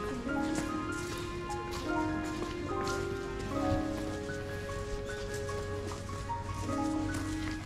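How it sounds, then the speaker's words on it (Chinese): Rain falls steadily outdoors on Miyajima island, a soft constant patter on surfaces with a few drips standing out, while sustained tonal sounds ring over it at moderate level; no one speaks. "现在在下雨"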